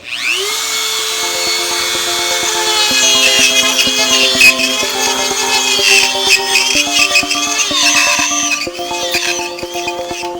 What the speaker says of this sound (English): this is the first time I've been using my Dremel since I got it